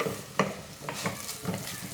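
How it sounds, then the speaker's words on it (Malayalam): Rice is stirred in a pan to dry off its water while making green peas pulao, giving soft scraping strokes and faint sizzling at an irregular pace, close and fairly quiet with no talk. "1 മിനിറ്റോളം നമുക്ക് ഇതുപോലെ ഒന്ന് ഇളക്കി കൊടുക്കാം കേട്ടോ"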